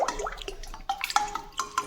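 Plain water is poured into a pot around a bowl while making homemade rose water, giving close, splashy trickles and drips in short uneven bursts.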